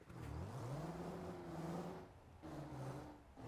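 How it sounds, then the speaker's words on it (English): A truck with a 600 Cummins engine in American Truck Simulator accelerates at double speed, its comically sped-up engine tone sweeping upward in rising pitch, dropping briefly, then climbing again, loud and close. "I did leave the sound in here, the 2 times acceleration sound of the truck"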